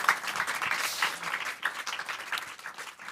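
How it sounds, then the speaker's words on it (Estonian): An audience at a volunteer fair gives sustained applause, a dense wash of clapping that holds steady and then slowly thins out. "Teeme neile suure aplausi."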